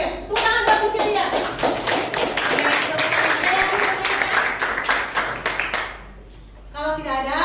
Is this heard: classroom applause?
yes